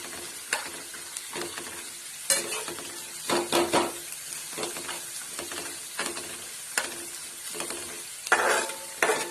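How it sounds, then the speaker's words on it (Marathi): Peanuts frying in a pan while making kande pohe, a steady sizzle broken by repeated scraping and stirring knocks of a spatula against the pan, close and without talk. "शेंगदाणे टाकते इथे, चांगलं फ्राय करून घ्यायचे शेंगदाणे."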